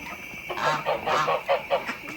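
Several geese honk at dusk in a quick series of loud, nasal calls close by, overlapping in bursts against a quiet background.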